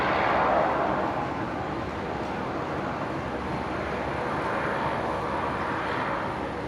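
Airliner on short final landing at Brisbane International Airport, with a broad, steady jet engine roar that stays loud and constant throughout.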